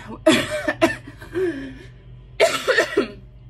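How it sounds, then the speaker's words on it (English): A person coughs in two harsh, chesty fits separated by a short pause, close and loud, each fit several rasping hacks. "I still have the cough."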